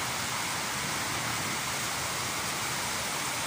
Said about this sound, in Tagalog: Ulan tayo dito sa Pilipinas.